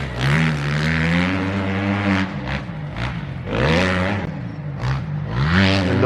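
Four-stroke motocross bike engine at a dirt track, loud and fairly close, revving up and down in repeated surges as the rider works through gears.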